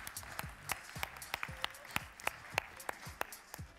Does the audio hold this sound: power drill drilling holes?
no